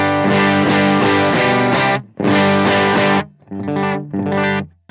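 Electric guitar through an overdrive distortion pedal playing loud, sustained, gritty chords in four bursts with brief gaps, close and saturated with no voices.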